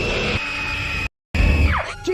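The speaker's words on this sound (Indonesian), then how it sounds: "Aurora tiba-tiba berteriak keras sambil memperingatkannya agar jangan menginjak lantai" A woman screams a loud warning, a sustained shrill cry that breaks off abruptly into brief silence before harsh, noisy sounds resume.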